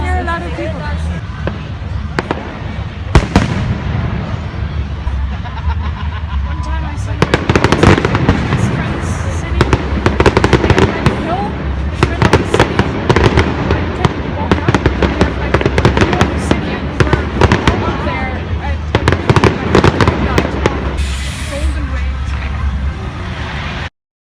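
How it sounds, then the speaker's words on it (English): Bonfire night fireworks burst repeatedly, a dense run of sharp bangs and crackles, some close and loud, others farther off, over a steady murmur of a crowd. "The fireworks still haven't started yet and it's half an hour late."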